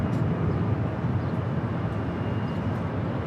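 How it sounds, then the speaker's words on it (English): A Norse Boeing 787-9 Dreamliner arriving from Paris touches down at LAX with a broad, steady roar of engines and rushing air, loud and unbroken throughout with no voices. "We just had Norse Flight 311 touchdown on the south side coming in from Paris"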